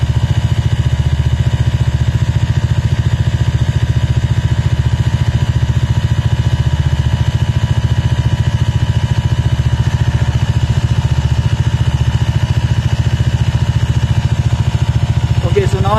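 A Bajaj Dominar 400 motorcycle engine idles close by, a loud, even, throbbing rumble held steady throughout, with a tyre inflator connected and someone talking over it.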